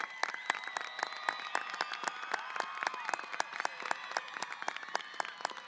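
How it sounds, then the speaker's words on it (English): Audience applause for graduates at a high school graduation ceremony, heard as quiet, distant clapping with sharp individual claps standing out, while a few high-pitched whistles or cheers wander through the background. "One last round of applause for our graduates."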